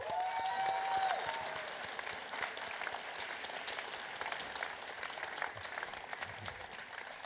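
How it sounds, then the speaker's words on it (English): Sustained applause from an awards-ceremony audience, dense clapping that stays steady and fairly loud before easing slightly. "please give a big round of applause"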